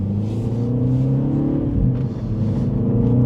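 A Mini JCW car on open road, its engine a loud, close, steady rumbling drone with a slight rise in pitch as it pulls, and no talk over it.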